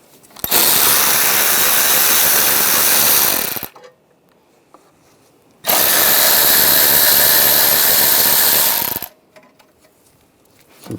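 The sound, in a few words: 10mm socket ratchet removing bolts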